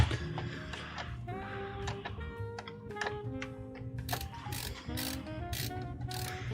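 Screws are driven into a PC case during an ASUS ProArt streaming PC build, with repeated small metallic ratcheting clicks and short bursts of tool noise close up over a steady background hum.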